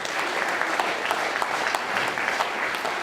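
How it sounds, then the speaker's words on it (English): Wedding guests applauding at a reception speech, steady crowd clapping throughout, fairly even and sustained without voices standing out. "if everyone could just give a real big round of applause for our people"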